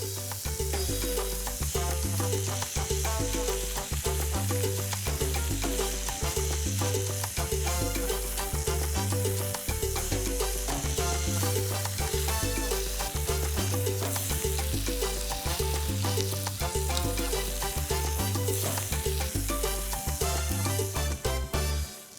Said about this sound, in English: That sizzling sound of it and the smell of it just brought me back home.